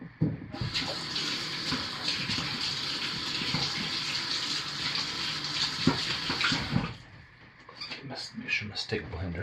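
Water gushes steadily from a running tap, rinsing a stick blender head, for several seconds, then cuts off, leaving a few faint clinks and splashes.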